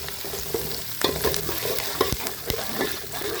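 Curry leaves hit hot frying onions in a pan, giving a steady crackling sizzle punctuated by sharp clicks of a spoon stirring, close and moderately loud with no voices.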